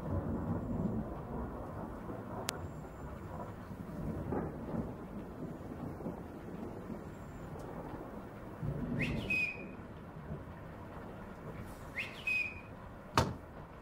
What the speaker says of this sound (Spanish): tú deja de estarme chiflando, porque ya sabes que me choca que me chifles